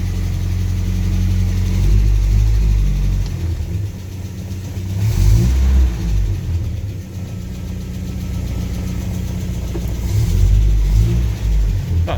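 A Land Rover Series 2A with the 2 1/4 petrol engine, started after more than ten years sitting, runs with a loud steady rumble and a few revs rising and falling, close by and without speech.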